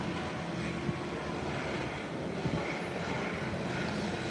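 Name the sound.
Embraer 120 Brasilia turboprop engine roar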